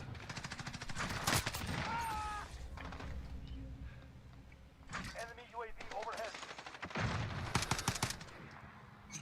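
Bursts of automatic gunfire in Call of Duty Warzone, several rapid volleys of varying loudness, some near and some farther off, mixed with player voices talking over them.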